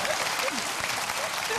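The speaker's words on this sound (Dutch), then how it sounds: "daar bekroon ik met een applaus en 10 punten" Studio audience applause on a Dutch television show, a thick, continuous burst of clapping with a faint whistle or voice flicker mixed in, steady and close.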